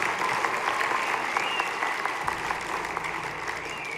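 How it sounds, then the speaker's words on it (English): An audience at a middle school winter concert applauds student helpers, a steady patter of clapping from a moderately distant crowd that holds at an even level throughout. "So can we give the kids who are helping a round of applause?"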